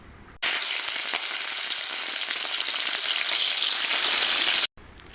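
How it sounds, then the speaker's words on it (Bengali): Shrimp fry in hot oil in a wok with a loud, dense, steady sizzle that starts abruptly and then stops at the end, with no voices. "চিংড়ি মাছগুলো আমি ভেজে নিচ্ছি"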